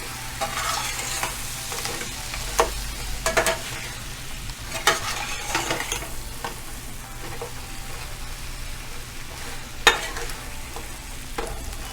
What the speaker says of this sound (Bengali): এখানে আপনারা ধৈর্য সহকারে 1 মিনিটের মতো কষবেন।